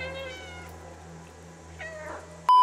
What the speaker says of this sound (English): Okay, press to meow.